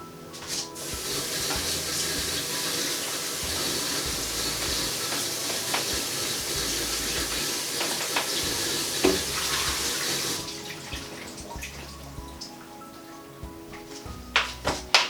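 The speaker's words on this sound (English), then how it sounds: "I'm going to give those a quick wash under the tap" Leeks rinsed under a running kitchen tap for vegan leek and potato soup, a steady loud rush of water for about ten seconds, then trickles, drips and small clatters as it eases off.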